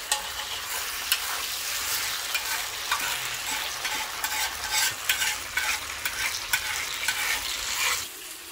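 Chives and tau kwa stir-fry in a wok with a loud, continuous sizzle close by, broken by frequent scraping and tossing strokes from the spatula, with no talking.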